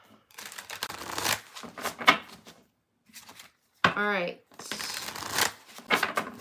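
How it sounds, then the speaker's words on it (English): Tarot cards are riffled and shuffled by hand in close, crisp bursts, with a short silent gap midway and a brief spoken word between shuffles. "One more shuffle, and then we'll get on to Libra."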